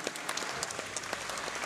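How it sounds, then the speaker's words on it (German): Crowd at a heavyweight boxing event gives both fighters a round of applause, dense, steady clapping filling the hall with no voices over it. "nochmal einen großen Applaus für beide Fighter"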